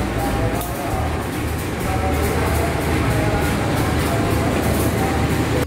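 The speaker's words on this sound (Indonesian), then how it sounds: "Ini kereta api jarak jauh, teman-teman, ternyata di jalur 4 yang baru tiba di stasiun Jatinegara." A long-distance train pulls in at platform 4 of Jatinegara station, with a steady loud rumble, rhythmic wheel clatter over rail joints and a faint squeal, continuous throughout.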